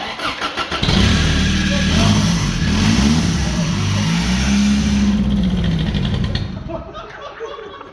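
A Toyota 22R-E truck engine cranks, catches and revs up loud and close, holding a rough rumble for several seconds before dropping back, with people talking around it.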